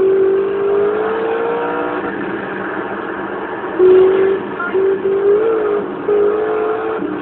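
A car engine drones steadily during a street race in GTA San Andreas, holding a sustained revving tone that swells louder in brief surges in the second half, with no voices over it.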